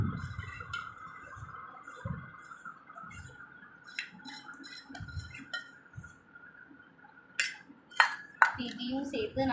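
A spoon scrapes and clinks against a bowl while melted chocolate and butter are stirred together for fudge brownie batter, in soft irregular strokes, with someone talking at times.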